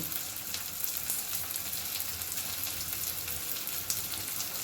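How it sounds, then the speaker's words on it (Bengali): Spices sizzle and fry in a pan, stirred steadily for a rohu fish-head dish with chili powder and salt over a medium gas flame, giving a continuous close crackle with faint scraping and no talk. "মশলাটা খুব ভালোভাবে নাড়াচাড়া করে কষিয়ে নেব"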